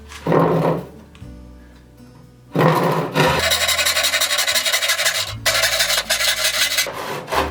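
Saw cutting through a wooden board for a simple bedside table, with the board pinching on the blade. Loud rasping bursts run in stretches separated by brief pauses, near and alone.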